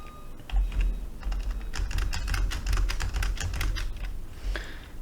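A rapid run of keystrokes on a computer keyboard as an IBAN number is typed, steady and close with no talking.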